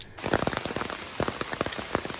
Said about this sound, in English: So it is raining pretty good right now.